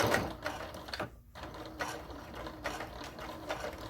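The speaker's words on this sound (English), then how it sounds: "We are going to top stitch across the top of the pocket so that it has a nice finish edge." A sewing machine top stitching across the top of an apron pocket, a close rapid mechanical chatter in several bursts broken by a short pause.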